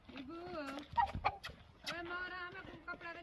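Chickens cluck and squawk close by, the calls rising and falling over continuous human chatter, with a few sharp bursts of flapping or fluttering.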